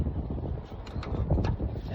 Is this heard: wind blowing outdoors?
yes